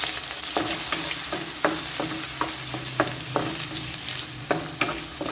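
Shrimp stir-fried in a hot pan for a glass noodle dish: a steady loud sizzle with repeated sharp clicks of a spatula scraping and tossing, close up and without talking.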